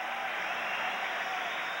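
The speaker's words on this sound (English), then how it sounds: "as Richter gets back to his feet, much to the delight of the crowd here at the Garden." A hockey crowd at the Garden during a 1991 Capitals vs. Rangers playoff game gives a dense, steady roar of cheering and applause that fills the whole stretch without a break.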